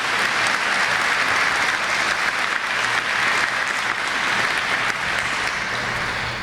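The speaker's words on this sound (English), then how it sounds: "would you give them a nice welcome and round of applause?" Loud, sustained applause from a large audience welcoming a Detroit Executive Committee managing director, a dense steady roar of clapping that holds for the whole stretch with no break.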